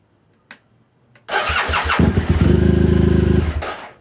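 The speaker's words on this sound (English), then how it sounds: "hitting the starter" A BMW R1200GSA motorcycle engine is started in first gear with the clutch pulled: a click, a brief starter whir, then the boxer engine catches and runs at a loud, lumpy idle up close.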